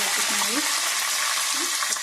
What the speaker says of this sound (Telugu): ఎండుమిర్చి వేద్దాం చిటపట్లు ఆడుతున్నాయి కదండి